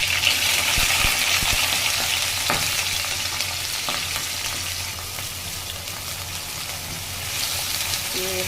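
Cumin seeds sizzling in hot oil for a vegetable dish, a dense, steady crackling hiss that stays loud and close throughout, with a few sharp clicks early on.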